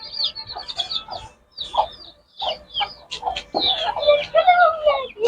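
Chickens, young roosters and hens cluck and chirp in a busy, overlapping run of short calls, close and fairly loud, with brief pauses between bursts.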